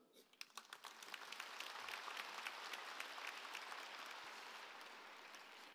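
Congregation applause welcoming a retired pastor at an Easter union worship service, starting with a few scattered claps and quickly swelling into steady, even clapping that continues to the end.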